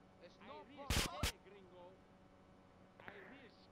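A powerful but clunky gun fires in Grand Theft Auto, two sharp loud shots in quick succession, then a fainter shot a moment later, with game chatter and voices around them.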